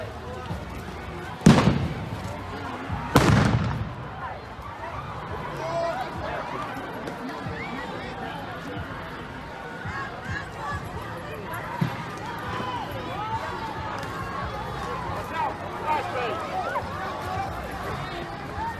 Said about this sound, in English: We got chemical irritants and flashbangs starting now, so this is going on.